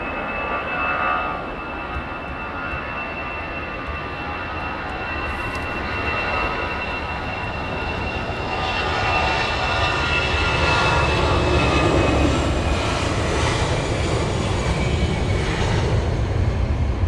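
Aircraft departing Heathrow Airport, a steady broadband engine roar that swells gradually as it climbs away, heard from a distance with no voices present.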